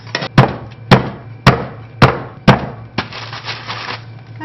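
A mallet pounds whole roasted chestnuts inside a bag, five sharp, loud, evenly spaced whacks with crunching and rustling after each, ending in a burst of bag crinkle.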